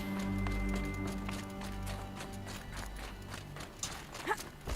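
Rhythmic hoofbeats of a horse running in the video game Horizon Zero Dawn over a low steady game soundtrack hum, with a few brighter clatters near the end.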